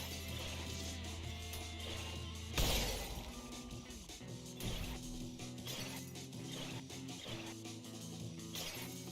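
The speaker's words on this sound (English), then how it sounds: "Oh, you can break this glass?" Glass shattering in the video game Ultrakill: a sudden loud crash of breaking glass bursts out over a dense mechanical, music-heavy game soundscape, then the game's clanking and rumbling carry on afterward.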